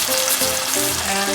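Canned tomatoes hit a hot pan of shallots, garlic and pancetta, a loud, close, continuous sizzle and hiss with faint stirring underneath.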